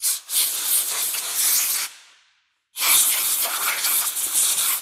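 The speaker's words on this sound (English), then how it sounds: "I really like this Eastwood pre-painting prep spray" Two close, loud bursts of Eastwood pre-painting prep spray hissing from an aerosol can, separated by a short pause; the first fades out before the second starts abruptly.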